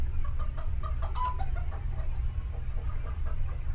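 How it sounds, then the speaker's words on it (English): Soft clucking from several chickens over a steady low rumble, with short bird calls scattered through the clip, in a TV crime drama scene. "What's that noise? Our chickens, Henny, Penny, and Maxine."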